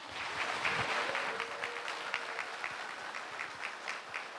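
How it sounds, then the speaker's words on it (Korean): Applause from an audience at a Shincheonji church gathering in Gwangju, a steady wash of many hands clapping that holds evenly throughout. "큰 박수로 모시겠습니다"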